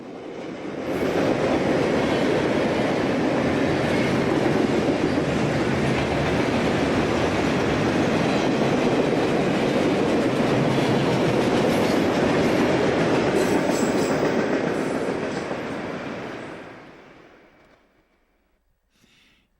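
A Norfolk Southern freight train, three locomotives hauling 100 loaded cars toward a steel plant, passes close by with a loud, steady rumble and rhythmic wheel clatter that holds for about fifteen seconds before fading away.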